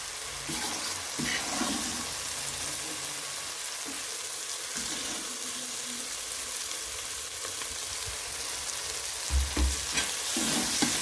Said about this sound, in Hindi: और इसको अच्छी तरह से फिर से भून लेंगे